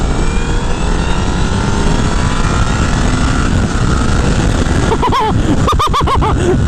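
Honda CBR 1000 Repsol motorcycle ridden at speed on a rough road, a loud steady roar of engine and wind throughout, with brief rider speech near the end.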